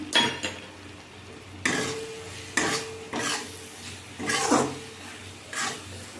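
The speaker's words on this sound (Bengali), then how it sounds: "ভালো করে মিশিয়ে নিয়েছি মশলাটা খুব সুন্দর করে কষা হয়ে গেছে" Garam masala and meat masala frying in a pan for mutton and potato curry, stirred with a spoon in several scraping, clattering strokes over a soft sizzle, close by and without talk.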